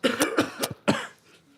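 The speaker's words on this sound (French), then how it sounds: "C'est vrai qu'il y a des gens qui toussaient dans la salle." Several sharp coughs from people in a live audience, in quick succession, close and fairly loud, followed by a brief quieter trailing sound.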